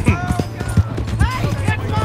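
In Red Dead Redemption 2, hooves clip-clop in a quick, uneven trot up close, with horse tack jingling and breathy snorts mixed in.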